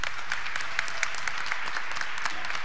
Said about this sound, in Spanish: así que un aplauso para ellos también.